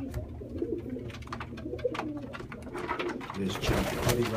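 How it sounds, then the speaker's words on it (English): A pigeon coos in Brooklyn, soft throaty calls close by over a busy outdoor background of rustling and scattered clicks, with a brief bit of talk. "Nice pigeon."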